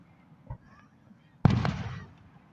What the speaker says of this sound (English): This is the best part about 4th of July. Just seeing the fireworks.